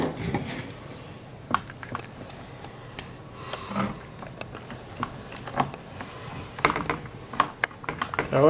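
Small mechanical clicks and ratcheting taps from screwing parts together while assembling an HSD Furious 200 scooter, with Loctite applied, scattered irregularly up close against a quiet room.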